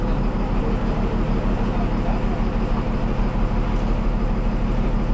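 Steady low engine rumble and road noise from inside an MSRTC Tata BS6 Lalpari bus driving out of Jalgaon, a continuous drone with no breaks and faint voices underneath.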